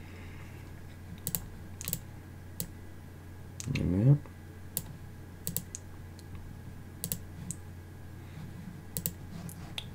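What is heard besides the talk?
typing on a computer keyboard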